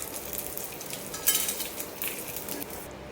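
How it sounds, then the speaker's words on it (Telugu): Bitter gourd and curry leaves roasting in a pan for a Telugu curry, a soft continuous sizzle with a brief utensil clink midway, no talking. "ఇది కొంచెం రోస్ట్ అయిన తర్వాత కరివేపాకు అయితే వేసుకోవాలి"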